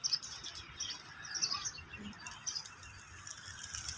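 Bird calls and chirps chatter over a busy outdoor background at Dolphin Park, Bahrain, with a faint patter and occasional flutter from a large flock of pigeons nearby.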